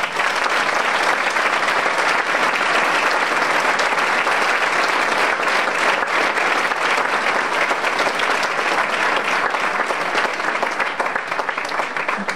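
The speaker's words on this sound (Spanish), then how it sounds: "Os pediría un aplauso para ellos, que se lo merecen." Sustained, loud audience applause at a band competition concert, thanking the stage crew who set up and strike the stage; dense, steady clapping fills the whole stretch without letup.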